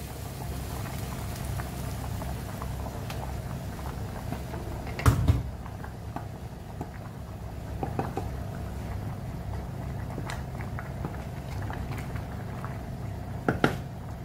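Indian fish curry made with hammour simmers under a lid with boiled water, giving a steady low bubbling and hiss throughout, with a few brief clinks near the middle and end, no talking.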